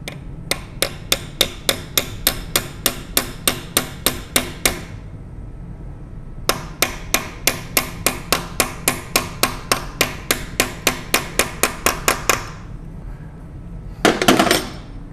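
A punch is hammered during Vilter VSS slide valve assembly: crisp, evenly spaced metallic taps in two long runs of about fifteen strikes each, close and loud, ending with a brief clattering burst.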